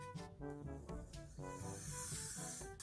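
Short bursts of spray hiss from a spray bottle onto a wig while bleaching its knots, loudest near the end, over steady tonal music.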